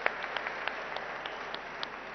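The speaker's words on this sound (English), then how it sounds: "deserves a huge round of applause to the entire team of Sankara" Audience applause at the inauguration of a Sankara eye hospital, a soft, fairly distant patter of clapping with a few sharper individual claps standing out.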